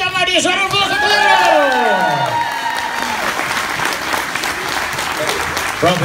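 An audience on a festival cruise ship applauds and cheers for a vocal group, with loud, sustained clapping mixed with whoops, while sung or melodic voices ring out over the crowd at the start.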